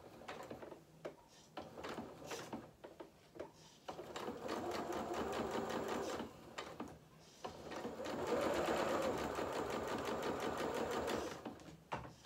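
A sewing machine stitches culottes fabric in short bursts, quick runs of close, steady needle clatter broken by brief pauses while the work is pivoted around a corner.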